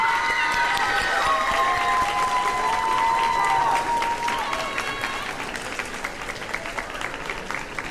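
Applause from an audience at a senior recognition ceremony honoring parents, guardians, families and teachers, a steady wash of clapping with some whistling tones, gradually thinning toward the end.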